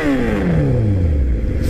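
A loud motorcycle engine revving close by, its pitch sweeping downward as it throttles off in a brief, rough roar.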